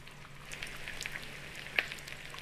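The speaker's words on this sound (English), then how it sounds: "That sizzling is so loud." Food sizzles steadily over a fire in the video game The Forest, a soft continuous frying hiss with a few small pops and crackles.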